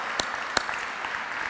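Applause at a ballroom dance camp as young couples take the floor, a brief, moderately loud spread of clapping with two sharp nearby claps standing out early and a lighter patter after them.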